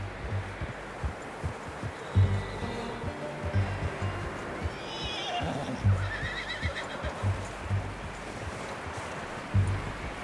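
A horse in the Red Dead Redemption 2 game whinnies amid a steady run of soft, thudding hoof beats, with faint background ambience.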